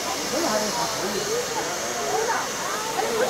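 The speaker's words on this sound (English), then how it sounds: "you can see all the steam down in here coming from different holes" Steam hisses steadily from relief holes on a steam locomotive in China, a continuous broadband rush under a person talking throughout.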